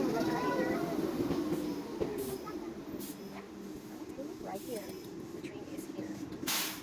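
Riding a train in Japan, a continuous low rumble of the moving carriage with faint rattles and occasional brief higher clicks, steady throughout.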